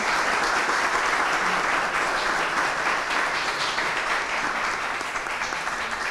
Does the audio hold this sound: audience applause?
yes